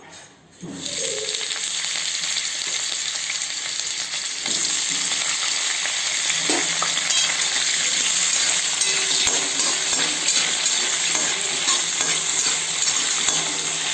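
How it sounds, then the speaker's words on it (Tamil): Brinjal sautéing in hot oil for a pepper chops masala, a steady moderate sizzle running almost the whole clip with occasional faint utensil clinks and stirring. "எண்ணெயில் வந்து இப்போ நம்ம கத்திரிக்காயை முதல்ல வதக்கி எடுத்துக்கலாம்."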